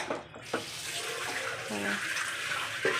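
Water is poured into a metal plate set over a pot of marinated chicken cooking in a home kitchen, a close, continuous splashing pour that runs steadily for a few seconds.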